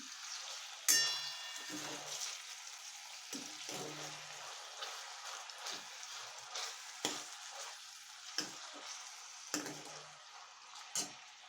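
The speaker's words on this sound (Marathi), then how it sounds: "बारीक चिरलेलं टोमॅटो ही आपल्याला छान परतून घ्यायचं आहे" Finely chopped tomato sautés with onion in a pan, giving a continuous soft sizzle broken by repeated stirring scrapes and taps.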